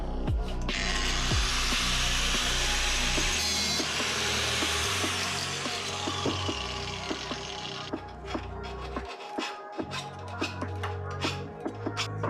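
A brake line for a five-cylinder-swapped Miata is cut to length with a tool, producing a sustained grinding rasp followed by a series of sharp scraping strokes and clicks, close and loud.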